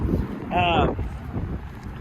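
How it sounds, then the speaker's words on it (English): Steady wind rumble and buffeting on the microphone outdoors beside a 2022 Honda Civic Sport, with a brief higher tonal squeal partway through; no clear talking. "hopefully there's not too much wind out here"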